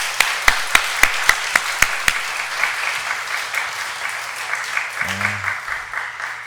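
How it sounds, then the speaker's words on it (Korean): A church congregation at a Wednesday evening service claps, starting with a few sharp, loud individual claps before settling into steady, dense applause, and a brief low sound comes near the end. "우리 큰 격려의 박수 부탁드립니다"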